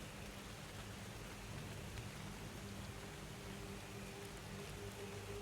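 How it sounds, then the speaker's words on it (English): Rain ambience plays as background for a tabletop roleplaying session: a soft, steady wash of rainfall with a faint low hum, continuous and even throughout, with no voices. "And he sit there under the sound of rain."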